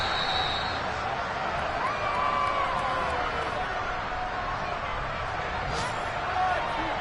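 Dense stadium crowd roar fills a Seattle football game against the Steelers, a steady loud wash of voices with a commentator talking over it.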